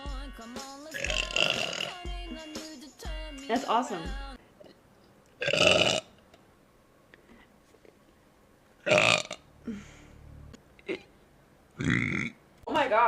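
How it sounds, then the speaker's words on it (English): Deep, solid burps from a man, several loud eructations spaced through the clip between bursts of his own talking, with quiet pauses in between. "Why am I censoring my burps for you fools tonight?"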